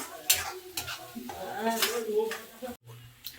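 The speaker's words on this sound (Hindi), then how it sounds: "जब तक ये गोल्डन ब्राउन नहीं हुई तब तक ये घुमाना चाहिए" Chicken frying in a pan for a Pahadi-style curry is stirred until golden brown, giving a soft sizzle with scraping and clinking strokes while a voice talks over it.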